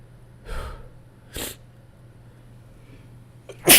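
A person sneezing repeatedly while sick, with two distinct sneezes spaced about a second apart, then a louder sharp burst at the end, close and with no talking.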